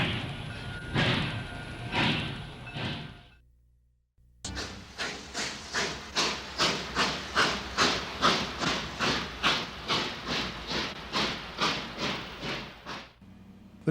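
A Southern Pacific steam locomotive works hard, with a long roaring exhaust that breaks into a steady rhythm of loud chuffs, about twenty beats repeating evenly and close at hand.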